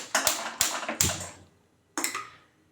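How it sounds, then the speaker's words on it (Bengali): A kitchen gas stove is lit with a few sharp, close clicks of the igniter, followed by a pause and then one more click. "এবার গ্যাসটা জ্বালিয়ে দিচ্ছি।"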